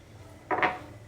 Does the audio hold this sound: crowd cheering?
no